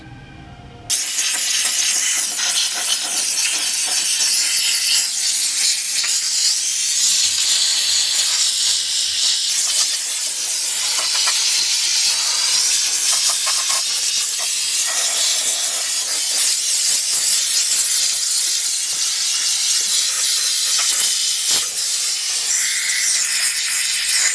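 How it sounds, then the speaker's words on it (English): Harbor Freight steam cleaner blasting steam onto a motorcycle wheel during a restoration, a loud, steady, close hiss that runs continuously after a brief quiet start. "I'm waiting for it to fire up here, is our steam cleaner."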